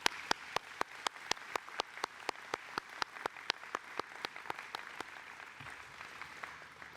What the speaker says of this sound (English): So I'd like you to give me a chance to give them a round of applause again.